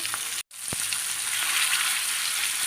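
Pieces of fish fry in a pan with a continuous bright sizzle. A brief gap interrupts it early on, followed by a single faint tap, and the hiss then runs on steadily.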